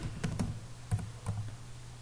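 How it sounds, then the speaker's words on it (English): Keys on a computer keyboard are typed in a few quick, light taps, with short gaps between them, quiet and close in a calm room. "Now I am going to type here our school name"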